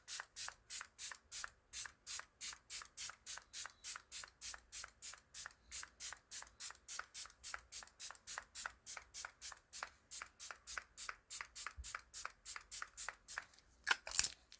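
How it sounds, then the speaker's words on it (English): Rapid, steady bursts of a fine setting spray misted onto a face, dozens of quick hissing pumps in a continuous rhythm, close and fairly soft, with no talking. "I'm going to use my Milani Set and Spray to melt down the powders"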